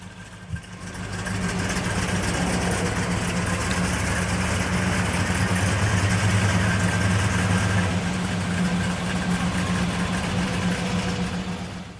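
The engine of a 1970 Plymouth Road Runner Superbird catches and settles into a loud, steady, rumbling idle through the exhaust, close up and with no one talking.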